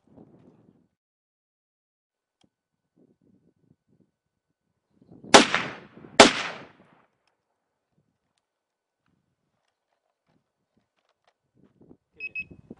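Two sharp gunshots crack about a second apart in the middle of an otherwise quiet outdoor stretch during gun-dog desensitizing training, with faint rustling and a brief electronic beep near the end.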